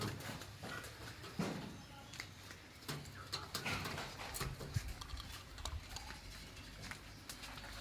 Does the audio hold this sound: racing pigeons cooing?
yes